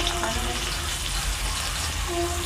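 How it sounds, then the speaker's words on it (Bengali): Potato, brinjal and ridge gourd frying in leftover fish-frying oil in a wok, a loud continuous hiss and sizzle that stays close and even throughout. "এবার ওই তেলের মধ্যেই দিয়ে দেবো সবজিগুলো।"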